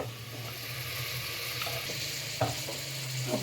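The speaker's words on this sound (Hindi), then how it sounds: "पहले फ्राई कर रहा हूँ, कौरमा को फ्राई करूँगा" Korma frying in a pot on a home stove, a steady broadband sizzle with a low hum underneath and a few sharp stirring clinks near the end, fairly close and continuous with no talking.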